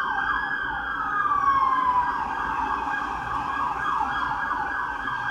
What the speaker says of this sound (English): maybe you hear that siren